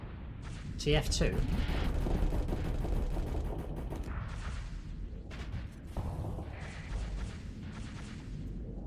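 Rapid missile volleys in a modded Team Fortress 2-style video game, a dense rumbling barrage of launches and blasts running throughout, loud and continuous, with people talking over it.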